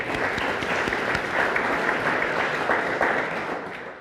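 A crowd applauds steadily, dense clapping filling the room for several seconds before beginning to taper off.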